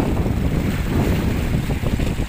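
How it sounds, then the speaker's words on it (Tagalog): A boat passes on rough sea near a pier in Mindoro, heard as a steady, loud broadband rumble of engine and water mixed with heavy wind buffeting the microphone. "May dumaan na bangka."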